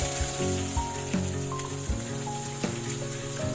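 Onion, urad dal, cumin and mustard seeds fry in hot oil with a constant close sizzle, dotted with sharp crackles and pops from the seeds throughout.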